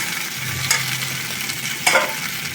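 Eggs being sautéed and stirred in a pan for a light egg curry, a steady close sizzle with two sharper scraping stirs standing out.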